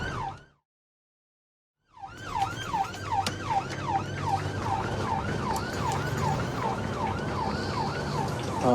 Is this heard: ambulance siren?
yes